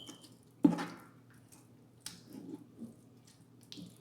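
Sticky, soft squishing and scraping of a spoon folding homemade New Orleans praline mixture with unmelted butter, with one sharper wet clack followed by a few quieter intermittent stirs.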